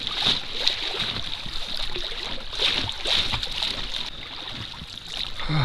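A boat motor drones steadily across open water in Yakutia, with wind and splashing from the hull as it moves along; no one speaks.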